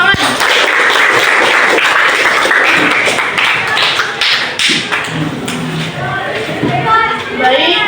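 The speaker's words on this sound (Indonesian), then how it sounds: "Beri tepuk tangan." Classroom group applause after a guidance lesson on time management, a dense burst of tapping claps filling the room throughout, with a voice speaking over the end.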